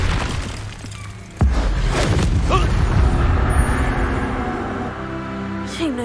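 In Hogwarts Legacy, a Confringo fire spell strikes and sets off a sudden heavy boom with crackling debris, then a long rumbling tail of falling rubble and small tinkling pieces fades out.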